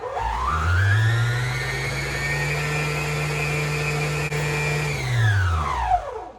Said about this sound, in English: I am going to give it one final go with the mixer